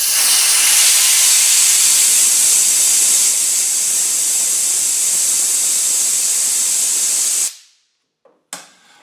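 A hot viscous fan clutch from an engine cooling system is rapidly cooled, giving a loud, close, steady hiss that runs unbroken for about seven seconds, then cuts off abruptly into near silence with a couple of faint knocks.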